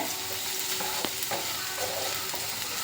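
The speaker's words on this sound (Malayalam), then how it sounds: "ഞാൻ ക്യാരറ്റും കൂടി ഇട്ട് നന്നായിട്ട് ഇളക്കി യോജിപ്പിക്കുന്നുണ്ട്" Carrots fry in a pan for a vegetable curry, with a steady sizzle under a few sharp scrapes and taps from a stirring spoon. No one speaks.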